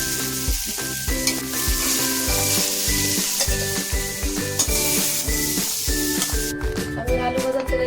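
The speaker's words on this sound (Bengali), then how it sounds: "আলুটাও ভেজে নিচ্ছি। অল্প পরিমাণে লবণ দিচ্ছি আর পরিমাণ মতো হলুদ। আমি ভালো করে মিশিয়ে ভাজি নিচ্ছি।" Potato pieces with salt and turmeric fry in hot oil, a continuous sizzle with rhythmic stirring running under steady tonal background music.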